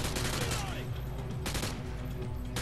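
Gunfire from shield-carrying enemies in Call of Duty: Modern Warfare 2 Special Ops, a dense, continuous volley of rapid shots throughout, with bursts sharpening near the middle and game noise underneath.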